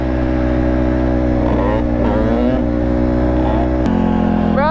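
A two-stroke dirt bike engine revs loudly and close, its pitch climbing and falling in repeated throttle blips, with a voice briefly calling out over it.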